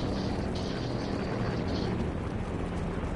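Helicopter in a video game flying and on fire, a steady dense rotor and engine rumble filling the clip at constant loudness, with no talk over it.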